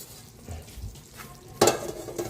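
Pinapaitan-style chicken sautéing in a pot, heard as a soft steady sizzle with light stirring and one sharp utensil clatter against the metal partway through, close and fairly quiet.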